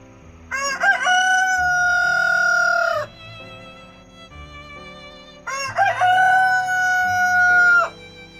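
A rooster crowing at dawn, two long, loud, close cock-a-doodle-doo calls several seconds apart over a soft bed of background music.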